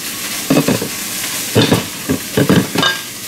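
Vegetables dropped into a pot for white chicken chili, with a steady sizzle underneath and several loud scraping, clattering bursts as they are stirred, close by.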